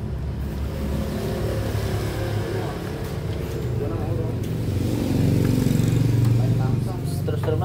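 A Honda Vario 125/150 scooter with a weak battery runs at idle with a steady low engine drone that swells briefly as it revs, close by, with voices faintly mixed in.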